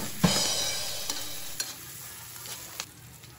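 Sliced garlic and onion fry in a pan on an LPG stove, a steady soft sizzle with a few sharp clacks of a utensil stirring, close and moderately quiet, with no talking.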